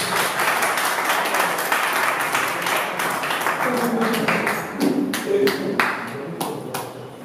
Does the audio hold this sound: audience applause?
yes